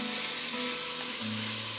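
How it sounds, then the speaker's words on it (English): Chopped shallots and shrimp frying in a soup pan, a loud, steady close sizzle that runs unbroken throughout with no talk. "So I'm just going to let that fry on up for a little bit."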